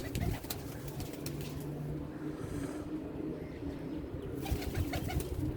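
Pigeons coo softly in low, throaty, repeated calls amid a bout of wing flapping, heard close against faint background noise without clear talk.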